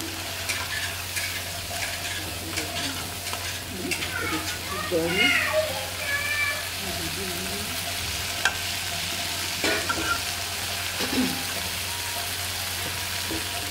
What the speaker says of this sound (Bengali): মশলাটা এইভাবে করে ভুনলে, মশলাটা দানা দানা হইলে